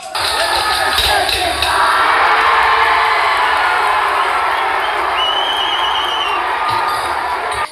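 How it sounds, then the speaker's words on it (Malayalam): A large audience roars and cheers continuously at a Kolkali stick-dance competition during a school arts festival in Thrissur, with dense crowd noise, shouts and whoops throughout, and a few thumps audible within it. "ഓരോ ടീമുകളും വട്ടക്കോലിൽ താളമിട്ട് തുടങ്ങിയപ്പോൾ സദസ്സിൽ നിന്നും ആരവമുയർന്നു"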